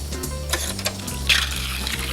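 A martini stirred with ice in a metal shaker: clinking, rattling ice against metal, continuous and close, with a few brighter clinks and no talking.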